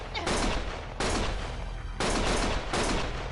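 Heavy gunfire in the crime action game Lost Judgment, coming in loud sustained bursts roughly a second apart, close and dense.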